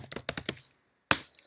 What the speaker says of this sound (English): once I type this in, once I type dworth